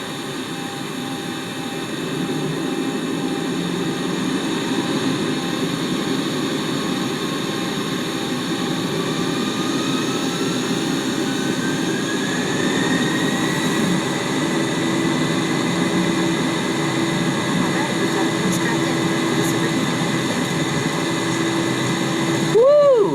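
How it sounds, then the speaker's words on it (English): Boeing 737-700 jet engines in X-Plane 11 drone steadily and loudly, a dense broadband roar with rising whine as they spool up, continuous throughout without talk. "Hear those engines."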